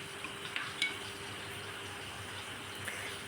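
Chhana (cottage cheese) stirred while frying in hot ghee for mango sandesh, a faint steady sizzle with soft scraping clicks of the spoon against the pan, no voices.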